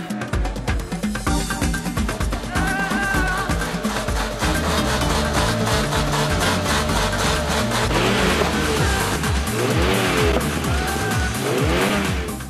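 Tuned car engine and exhaust revving hard at a tuning meet in Dannemarie during an exhaust contest, loud sustained roaring with rapid rev swings, crackles and a squealing edge, close and continuous.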